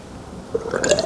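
Motor oil gurgles and splashes briefly as it is poured into a motorcycle fork tube during an Indian Chieftain suspension fork install, a close, short liquid burble with no voices.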